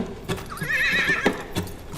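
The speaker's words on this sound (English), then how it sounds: "This is his horse." A horse on the streets of Riga, Latvia, clip-clops with steady hoofbeats and lets out a loud, close whinny partway through.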